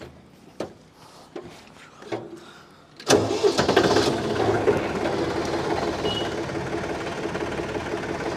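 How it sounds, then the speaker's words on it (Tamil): A tractor offered for sale is cranked and fires up after a few sharp clicks, then settles into a steady, loud diesel idle running close by with no talking. "உங்களுக்கு வேணும்னா நான் பார்த்தீங்கன்னா லைவாக உங்களுக்கு ஆன் பண்ணியே காமிக்கிறேன் இதோடைய சவுண்டு எந்தளவுக்கு இருக்குன்னு சொல்லிட்டு"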